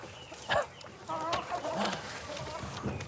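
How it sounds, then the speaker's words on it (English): Farm chickens cluck and murmur nearby in short, irregular calls, with quiet background chatter from people. "She's the most friendly chicken."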